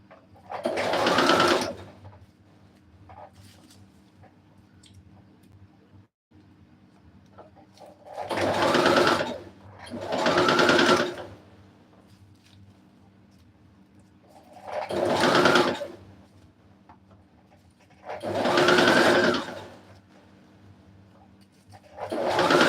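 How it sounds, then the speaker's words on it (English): Sewing machine stitching a strapless dress, running in five separate bursts of rapid whirring stitches, each a few seconds long, split by quiet pauses. "You don't know how careful I am sewing this."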